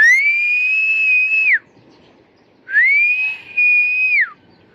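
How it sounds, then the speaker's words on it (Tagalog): A person whistles loud, sustained tones close by outdoors in still air while flying a kite: one long held note, a pause, then two more held notes. "Sipol muna tayo dahil sa walang hangin."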